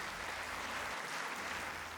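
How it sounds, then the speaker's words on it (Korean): Cheering and applause from an audience at a church Bible seminar after a choir performance, a dense, even crowd roar of clapping, fairly faint and steady without a break. "대전 시민들을 위한 그라시아 쌉창단의 무대는 큰 환호와 박수를 받았다"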